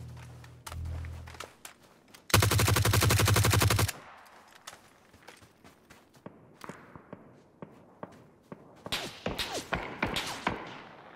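Automatic gunfire from a player's weapon in the battle game PUBG, a loud sustained burst of rapid shots for about a second and a half after a short thump, followed by scattered footsteps and fainter clicks and shots.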